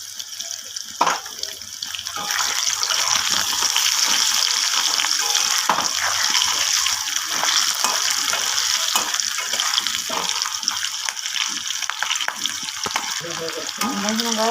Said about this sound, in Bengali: আলুটা আমার ভাজা হয়ে গেছে